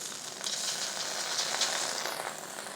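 Soy sauce and oyster sauce hit the side of a hot wok during a beef stir-fry, making a loud, steady, close sizzle that hisses without a break.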